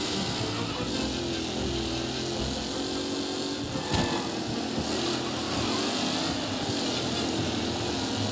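Several racing car engines drone continuously in Mafia: Definitive Edition on the Lost Heaven Circuit as cars bunch into the first turn, a steady dense roar with a brief bump of impact near the middle.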